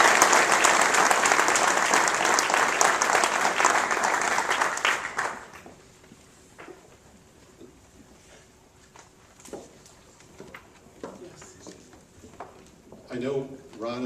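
Audience applause at a NASA agency awards ceremony for Bruce Woodgate, steady clapping for about five seconds that then dies away to scattered sounds and a voice.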